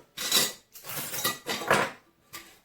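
Titanium camping pots clink and scrape against each other in several short bursts as they are slid and nested together, close and fairly quiet.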